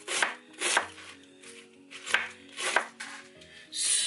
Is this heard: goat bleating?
no